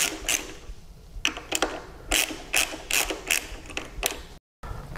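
A wrench works the handlebar clamp bolts on a Harley Road Glide, giving a series of short metallic ratcheting clicks in irregular bursts, close up, with no talking.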